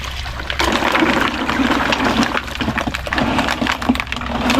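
Foraged food from a bucket being rinsed in river water outdoors, with steady splashing, sloshing and scattered knocking sounds throughout, fairly close and continuous.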